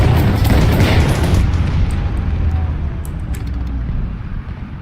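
A tank in the War Thunder video game takes a shell hit, a loud booming impact that rolls into a long rumbling decay under engine noise, with no talk.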